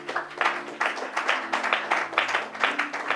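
A congregation at a Bible teaching on Exodus 12 claps in steady rhythmic pulses, roughly three beats per second, close and full, with a faint hum underneath and no speech.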